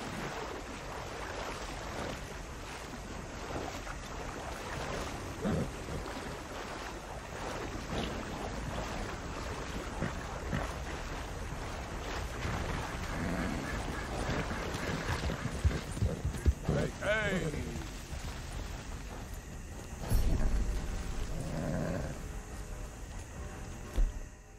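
A horse wading and swimming across a river in Red Dead Redemption 2, with water splashing and sloshing, hoof clops and wind. Someone talks at times over the sounds.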